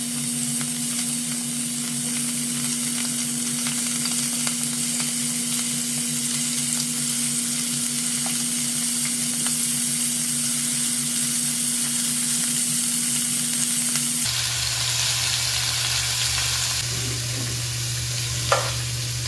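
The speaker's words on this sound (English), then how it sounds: "So I'm going to lay all my shrimp down like this. And I'm going to cook these 3 minutes on each side" Seasoned shrimp sear in a hot pan, a loud unbroken sizzle and crackle with a steady low hum below, shifting in tone partway through as the cooking continues, with no talking.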